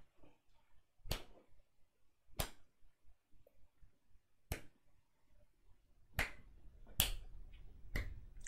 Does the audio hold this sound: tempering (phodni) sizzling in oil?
no